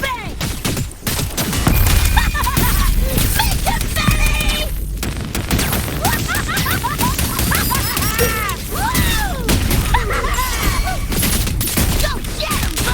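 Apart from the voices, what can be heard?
gunfire in the video game Wuthering Waves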